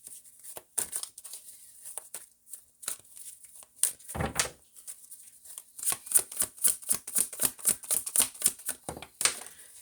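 Tarot cards being shuffled, stiff and awkward to handle, give off rapid papery riffles and flicks, sparse at first and then a dense rhythmic run of crisp snaps, close and fairly quiet with no talking.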